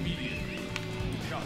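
A horse runs in the video game Dynasty Warriors 8, with clip-clop hooves and a whinny mixed under voices talking over battle sounds.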